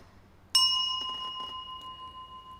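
A single bell in a Buddhist chant setting is struck once, ringing out bright and clear with a sustained shimmering tone that slowly decays, close and alone.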